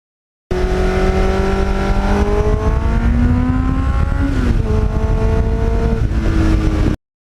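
A Kawasaki Ninja engine revs loud and close through a Muzzy muffler, its pitch climbing and dropping over several throttle sweeps, alone and without any talk, before it cuts off abruptly.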